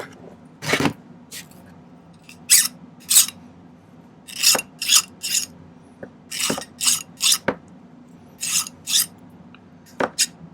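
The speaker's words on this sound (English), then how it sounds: "I'll get that all smoothed out with the file" Hand file rasping on silver wire for a balloon dog pendant, heard as short bursts of strokes with pauses between, close and fairly crisp, with a few sharper taps of metal on the bench.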